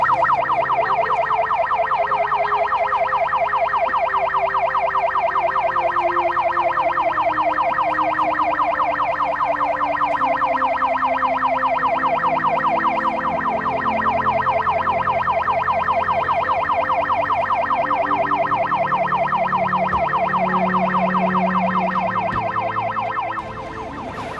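An ambulance siren wails continuously for the whole stretch, loud and steady with a rapid warbling pulse, and faint traffic rumble sits underneath.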